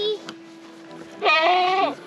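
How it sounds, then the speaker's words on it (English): A young goat gives one wavering bleat near the mic on a farm, preceded by a brief human voice and a click. "how are the baby goats doing?"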